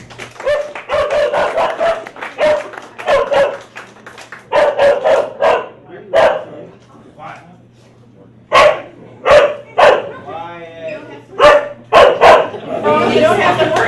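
A dog taken in as a protector and companion barks repeatedly in short bursts, close and fairly loud, amid people talking throughout.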